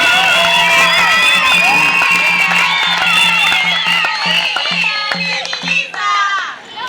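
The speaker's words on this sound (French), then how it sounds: "on va le saluer avec les applaudissements" A loud, close crowd at a gathering in Kipushi cheers and whoops to greet an official, shouted voices layered over each other with scattered applause underneath, easing off briefly near the end.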